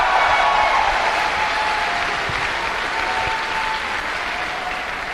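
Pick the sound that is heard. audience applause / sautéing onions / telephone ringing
audience applause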